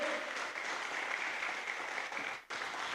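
Church congregation at a Brazilian worship service applauds in a steady, moderately distant wash of clapping, with a brief dip near the end before it resumes.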